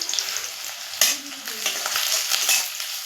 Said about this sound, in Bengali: এখন একটু নাড়াচাড়া করে পেঁয়াজটা লাল করে ভেজে নেব